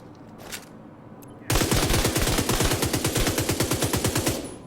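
A low-RPM automatic weapon in The Division 2 fires a sustained burst of evenly spaced, punchy shots at a measured rhythm, loud and close, after a brief quieter moment, with no talking.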